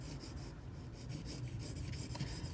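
Benchmade 9400 auto knife blade drawn across an 800 grit sharpening stone, a steady close gritty rasp of repeated rubbing strokes, continuous and fairly quiet.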